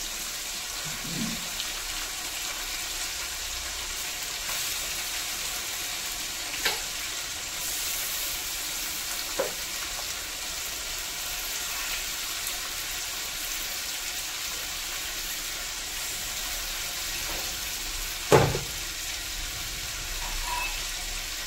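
Vegetables such as capsicum and carrot frying in hot oil in a pan for a mandi recipe give a steady, even sizzle, broken by a few sharp clinks of stirring.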